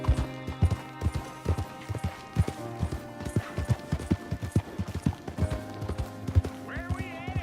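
Steady galloping hoofbeats of a horse in the video game Red Dead Redemption 2 pound in a quick, continuous rhythm throughout, with a musical tone humming underneath.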